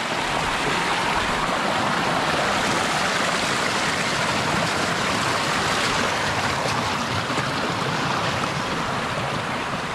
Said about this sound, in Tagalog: Natawid po tayo ng sapa ay.